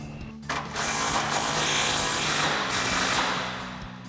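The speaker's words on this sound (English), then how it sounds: "now we're gonna tighten our top bolt down with our modified wrench and impact and 21mm socket" Impact wrench driving a 21mm socket on a modified wrench to tighten the top bolt of a lowering kit on a 2009-2018 RAM 1500; a loud, steady mechanical whir that holds for about three seconds after a brief start, close up with no talk.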